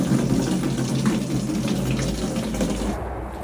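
Tap water pours steadily and close by into a 7-gallon water tank, a continuous rushing fill with a low, hollow resonance, untouched by talk until it cuts off near the end.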